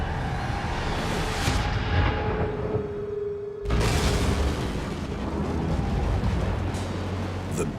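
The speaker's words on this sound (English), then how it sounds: "The Big Bang." A Big Bang explosion sound effect: a massive, sustained roaring rumble that fills the whole clip, briefly cutting out near the middle before surging back loud and dense.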